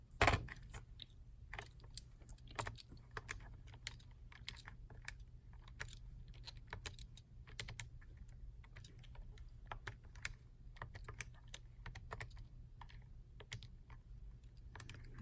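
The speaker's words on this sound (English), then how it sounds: "So I'm typing in wrong stuff here." Fingers tapping calculator buttons during a math homework session, a faint, irregular series of quick close clicks over a low steady hum, with no talking.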